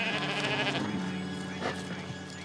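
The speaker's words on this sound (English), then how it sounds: "It's a sheep." A sheep bleats in a wavering, nasal cry that runs throughout, close and fairly loud, over a steady background hum.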